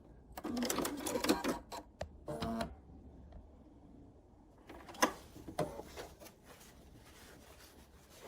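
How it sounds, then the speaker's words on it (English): A sewing machine stitching quilt pieces together runs in short bursts of rapid stitching, with quiet pauses and a faint clatter between runs, close by. "go over to the sewing machine, throw the pieces down, and sew them together"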